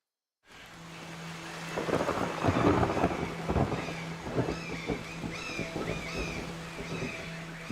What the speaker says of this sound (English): For much of the night, it's been raining, and the sleeping area is flooding.